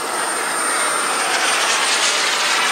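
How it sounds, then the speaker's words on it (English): At an airshow, an airplane rolls out on the runway with a steady, loud, broadband jet engine roar, close and continuous, with no voices. "Rolling out on the runway."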